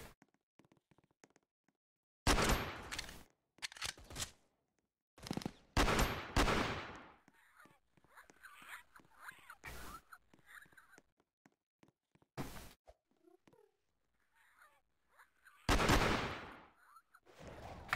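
Gunfire from the video game Headcrab Infection, heard as several loud, sharp bursts of rapid shots spread across the stretch with quieter gaps of game noise between them.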